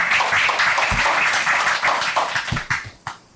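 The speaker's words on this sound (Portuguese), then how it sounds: "Uma salva de palmas." Audience applause follows thanks to a professor at a pediatric heart surgery talk, a dense patter of hand claps that holds steady, then thins into a few scattered claps before fading out.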